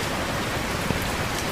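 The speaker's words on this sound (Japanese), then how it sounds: "太陽出ながら雨降ってますね。" Rain falls in Truck Simulator Ultimate while the sun shines, a dense, even hiss of drops on surfaces, steady and close throughout the short moment with no talk.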